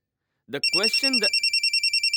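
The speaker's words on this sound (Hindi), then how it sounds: "अरे फोन उठा लो ना, वरना बार बार यूं ही बजता रहेगा।" Telephone bell ringing in a film scene, a steady run of rapid, bright electronic trills that starts right after a brief spoken phrase and carries on alone.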